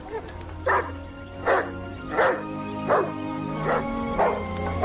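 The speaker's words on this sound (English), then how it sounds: "He had domesticated the wolf, a wild animal, making it the dog, a faithful companion" A dog barks six times at an even, steady pace, each bark moderately loud and close over a constant low droning hum.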